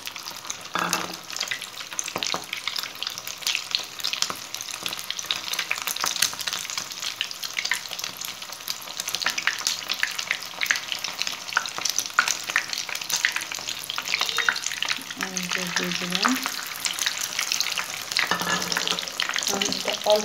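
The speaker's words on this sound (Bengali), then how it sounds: "এই যে এভাবে ডিমে ডিপ করে এখন তেলের মধ্যে দিয়ে দেব।" Egg-dipped rolls frying in oil over low heat, giving a steady, close sizzle throughout with occasional utensil scrapes and clinks.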